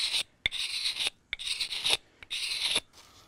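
A hand-held Aurignacian flint scraper rasps in three long, near strokes, each a bright, hissy scrape lasting about half a second, separated by short pauses and sharp clicks, with no voices.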